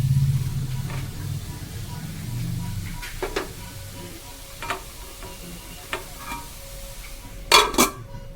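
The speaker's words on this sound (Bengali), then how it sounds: "একটু ঢাকা দিয়ে দিলাম।" A lid clatters onto a cooking pot of mashed bharta ingredients, with a few sharp metallic clinks and knocks after a soft stirring stretch, close and clear with no talk.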